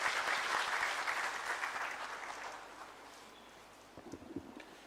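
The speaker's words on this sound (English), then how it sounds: "Please give him a big round of applause." Audience applause in an international conference hall on election law and order, welcoming a speaker to the stage: dense, steady clapping that swells loud at first, then gradually thins and fades, with a few scattered final claps at the end.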